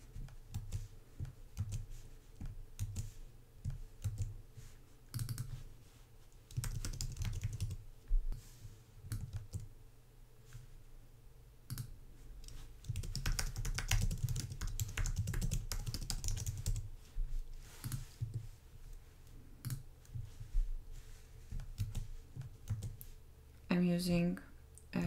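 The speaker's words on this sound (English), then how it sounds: "I'm using keyboard shortcuts to copy and paste module styles in between modules." Computer keyboard typing while building blog category header layouts in the Divi website builder, with keyboard shortcuts for copy and paste: scattered clicky key taps in bursts and a quick run of clicks near the end, under a quiet background hum.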